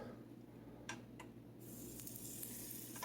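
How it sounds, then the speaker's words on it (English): Steady frying sizzle, a bright hiss that grows louder halfway through as flour-coated chicken lands in hot oil, with a few small pops. "See, we got a sizzle going on."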